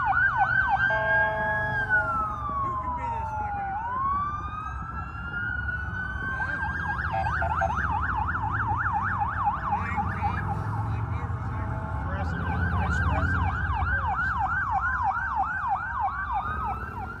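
Wailing sirens from the vice president's motorcade rise and fall in Washington DC, sweeping through steady yelp patterns at moderate distance over a constant traffic rumble.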